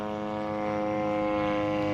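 A Seagull Models Gilmore Red Lion RC airplane with a 74-inch wingspan and 35cc gas engine drones steadily in flight, a constant buzzing engine tone held at even loudness throughout.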